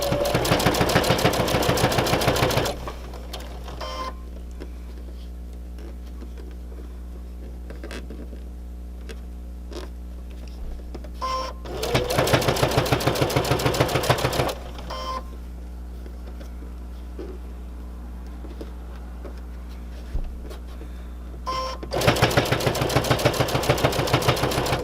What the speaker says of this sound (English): I'm stitching on this folded piece to hold it down